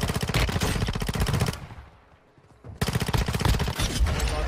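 An RPK machine gun in the mobile shooter Warzone Mobile fires long, rapid full-auto bursts, loud and close. One sustained burst, a brief near-silent gap, then another burst rattles on to the end.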